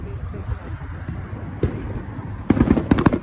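Fireworks go off at a nighttime display: a deep thump, then a quick burst of several sharp bangs and crackles, fairly loud over a steady background rumble.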